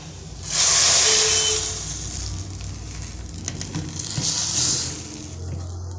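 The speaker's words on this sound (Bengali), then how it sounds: "এখন ডালের মধ্যে ঢেলে দেবো।" Fried onion mixture poured into a pot of dal hisses in two strong bursts of sizzling, loudest at first, then dying back before flaring up again, with no talk.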